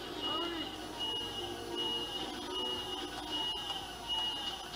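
A steady repeating alarm tone rings through a nightclub mission in the GoldenEye game, sustained and fairly loud over a busy game soundscape with voices talking underneath.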